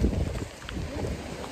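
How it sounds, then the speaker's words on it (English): Low, rumbling wind buffets the microphone in uneven gusts during rain, a dull roar with no voices. "It's very windy."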